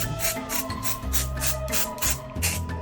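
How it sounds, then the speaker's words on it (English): Orange aerosol hairspray hissing in steady bursts of pulsed spraying, close and fairly loud, with no talking. "then I have my orange hairspray"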